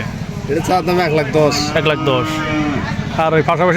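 A loud, drawn-out moo from a large-breed cow rises and falls close by, mixed with nearby voices talking.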